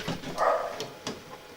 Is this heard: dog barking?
yes